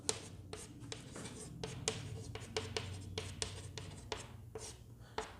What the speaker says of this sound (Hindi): देखो भाई यहां लिखता हूं मैं